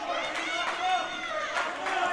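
A college basketball crowd roars and cheers in a gym during National Park College vs. East Texas Baptist University, a steady, loud wash of voices with chatter mixed in throughout.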